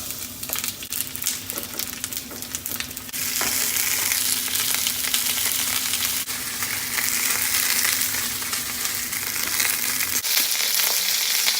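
Unseasoned chicken wings frying skin side down in a little vegetable oil in a wok: a loud, crackling sizzle that jumps up after a few seconds and holds steady, close, with some spatter pops and no talking.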